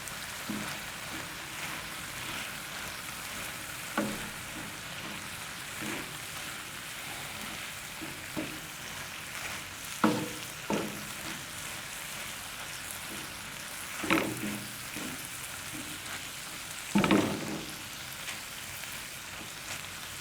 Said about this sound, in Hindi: इनको थोड़ी देर अच्छी तरह भूनें ताकि प्याज और टमाटर अच्छी तरह मिक्स